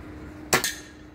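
A single sharp shot from a Theoben Evolution .22 gas ram air rifle fitted with a scope: a sudden loud crack with a quick metallic follow-up snap, set against a quiet outdoor background.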